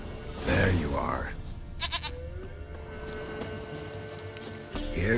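A goat bleats in The Witcher 3: Wild Hunt, a short bleat heard in game sound, with a voice speaking around it and a faint bell-like chime.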